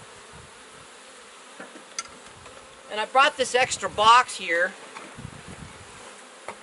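Honey bees swarm around a hive's graft frame, a steady insect buzz running through the whole stretch, with a person talking briefly near the middle over the humming.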